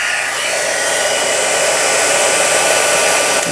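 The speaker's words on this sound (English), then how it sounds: "And here comes the heat tool again." A heat gun, already warmed up, blows a steady loud roar while melting embossing powder on a handmade flower shop card, holding constant for the whole stretch without any talk.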